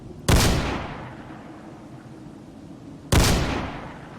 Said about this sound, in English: So the scorpions are just going to sit here and let us shoot them as well.